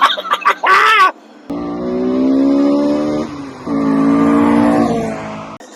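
Honda Integra Type-R DC2 engine revving hard, a loud sustained climb in pitch that dips briefly and surges again, preceded by a short burst of choppy sounds and ending abruptly.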